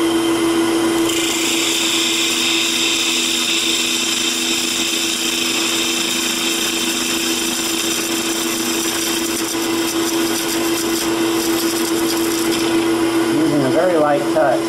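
A wood lathe runs steadily while a tool parts off the end of a burl bottle stopper with a light touch, producing a loud continuous whine and grinding hum throughout that roughens near the end.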